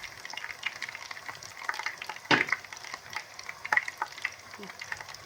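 Coriander drops into softened frying onions, a soft close sizzle with scattered crackles and one sharp burst of spatter as it lands, followed by light stirring.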